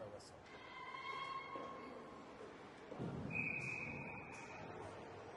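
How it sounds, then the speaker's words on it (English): A referee's whistle sounds at a youth peewee ice hockey game, Minnetonka against Chaska-Chanhassen: a sustained shrill tone, then a second sharper blast a moment later, over crowd and arena noise. "And yet another whistle."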